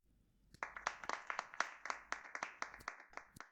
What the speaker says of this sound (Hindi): जादू अच्छा लगे तो ताली बजा